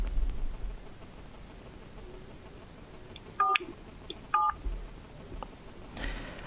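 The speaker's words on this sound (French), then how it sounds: "Alors, l'a dit, on peut avoir le docteur Charé, allô?" Two short telephone dialing tone bursts while a guest is called in over a phone line, separated by about a second and standing clearly above a faint hiss, with no talk.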